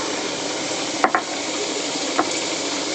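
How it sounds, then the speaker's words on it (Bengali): Potatoes for a home-cooked chicken dish fry in oil in a pan with a steady, close hiss, broken by a few sharp taps of a utensil against the pan; no one speaks. "আমি যে চিকেনের আলুটা ভাজতে বসিয়ে দিয়েছি"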